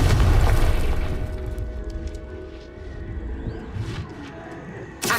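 A fire spell blast in the Hogwarts Legacy video game, played on Nintendo Switch: a loud booming burst at the start that rolls off and decays into a rumbling tail, with a second sharp hit at the very end.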